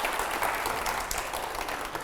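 Loud, dense audience applause at a televised Meerut debate and interview event, a steady unbroken wash of clapping lasting about two seconds with no talk over it.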